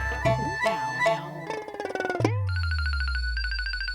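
A telephone rings while a friend is being called: after a brief musical sting, a bright electronic ringtone repeats in two even bursts, clear and steady.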